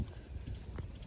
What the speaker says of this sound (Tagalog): Totoo nga, mahangin.